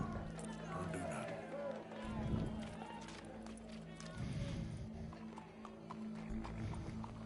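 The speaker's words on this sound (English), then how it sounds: "Go brush that horse, officer." Horse hooves clip-clop in an uneven trotting rhythm amid a busy Red Dead Redemption 2 soundscape, with voices talking over it and a faint whinny.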